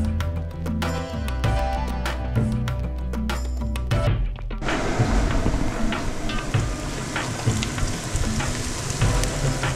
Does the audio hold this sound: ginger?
yes